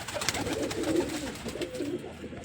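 Pigeons cooing in a coop, a steady run of soft, low throaty coos close by with no talk, ending in a brief sharp knock.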